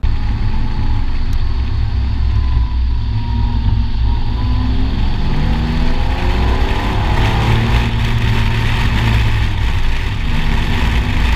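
A car drives along, recorded by a GoPro on a suction mount stuck to the rear, with a loud, continuous engine drone and road rumble mixed with buffeting wind noise.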